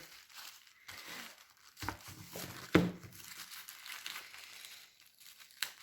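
Plastic packaging crinkling and tearing as a second parcel is opened during a resin-art unboxing, with close bursts of crumpling and a sharper rip near the middle, fairly quiet with brief pauses.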